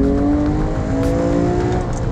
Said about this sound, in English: so I don't get to enjoy that flat six sound